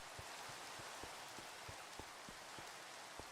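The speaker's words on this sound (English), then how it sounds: "It's raining here, too." Steady rain falls as a soft, even hiss, with faint, regularly spaced drops tapping a surface, quiet and continuous with no voices.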